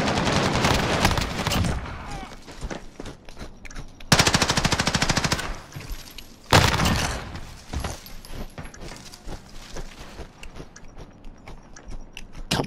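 Automatic gunfire in the shooter game S&D Noah's Flood rattles in fast, dense bursts, with a couple of abrupt louder volleys and shorter clusters of shots between them.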